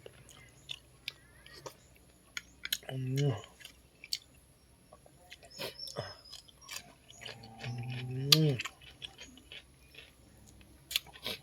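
Wet chewing and biting on tender stewed oxtail in spicy Thai-Lao sour oxtail soup, with close mouth smacks and slurps in bursts, some louder than others, and a voice speaking between mouthfuls.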